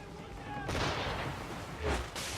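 Swivel gun cannon fire from a ship in Assassin's Creed 3, two booming blasts about a second apart with a rough, rumbling wash of battle noise between them.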